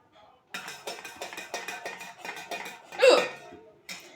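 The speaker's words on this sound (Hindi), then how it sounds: "क्योंकि हिचकी बहुत दिनों पे आई है" A woman hiccups repeatedly in a quiet room, a run of about eight short, evenly spaced vocal catches followed by a louder, longer burst and one more at the end.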